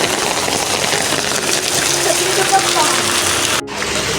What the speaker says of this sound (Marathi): खूप जास्त पाऊस आहे जोरात आणि खूप जास्त पाऊस आहे